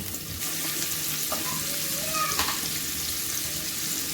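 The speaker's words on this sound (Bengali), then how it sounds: "কড়াইয়ের মধ্যে এবার আমি সজনে ডাঁটাগুলো দিয়ে দেব" Drumstick (moringa) pods frying in hot oil in a wok just used for frying fish: a steady, close sizzle runs throughout, with a couple of brief squeaky scrapes partway through.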